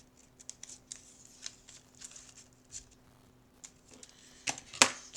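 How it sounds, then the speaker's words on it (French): Scissors snip leftover card paper during a handmade greeting card craft with a paper tulip bouquet and butterfly, a run of light, close cuts and shuffles building to a few sharp, louder snips near the end, with no talking. "je vais venir couper ce qui reste collé"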